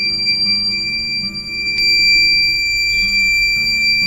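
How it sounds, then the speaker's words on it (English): A steady, high-pitched electronic buzzer tone from a milk boil alarm sounds continuously on a stove, close and loud, over faint background hum. "the buzzer has alerted me that the milk has started rising"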